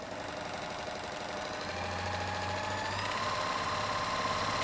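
A Viking Huskylock 1002LCD serger stitching a rolled edge on regular cotton fabric while trimming as it sews, giving a steady close mechanical whir with rapid needle chatter that picks up and grows slightly louder partway through.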